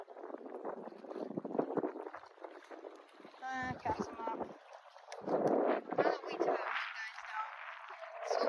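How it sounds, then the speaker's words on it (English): Wind gusting across a rocky shoreline at Waikalua during a fishing outing, a steady rushing rumble that swells and eases beneath people talking close by. "Wait till the wind dies down."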